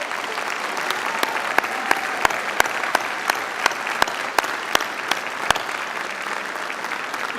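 A crowd applauds steadily throughout, a dense sustained patter of many hands clapping with a few sharper individual claps standing out.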